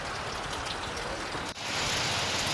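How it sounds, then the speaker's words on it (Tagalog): Heavy rain pours down in a steady, loud hiss close by, briefly dipping and then returning even denser, with nobody talking. "Sobrang lakas na ng ulan."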